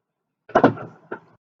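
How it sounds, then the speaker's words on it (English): A house door is pulled shut with a pair of quick wooden thumps and a rattle, then a softer knock, close by and with no talk. "Close the door, or you let something in the house."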